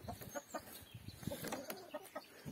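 Several hens clucking close by in short, irregular bursts, with soft rustling between the calls.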